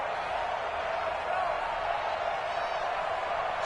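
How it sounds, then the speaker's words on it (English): Dull, steady roar of a domed-stadium crowd in a PS4 American football video game, a constant distant murmur held at one level. "The crowd here in the Dome making things difficult."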